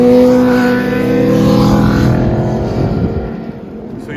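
A 2001 BMW Z3 3.0 engine revs steadily while driving, a close, continuous drone with harmonic engine tones that rise and settle under road noise, with no talk over it.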